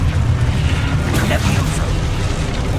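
A Confringo blast spell explodes in the Hogwarts Legacy video game, a loud continuous booming rumble with a burst that carries through the whole moment, heavy low end and no gaps.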